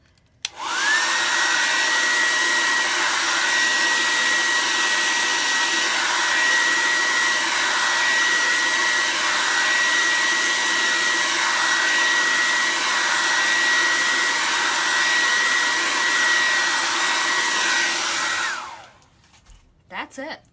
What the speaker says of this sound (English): I'm going to take my hair dryer and dry this super quick